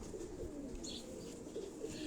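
Pigeons in a backyard loft cooing softly in low, continuous murmurs, with a faint higher chirp partway through, steady and close over a dull ambient hum.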